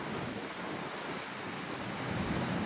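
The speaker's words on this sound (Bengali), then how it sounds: "মানে বাতাস তুফান দের আর ঢেউ দের," Rough sea waves and strong wind on the Italian coast, a loud, continuous roar of surf mixed with gusting wind buffeting the microphone, steady throughout with no voices.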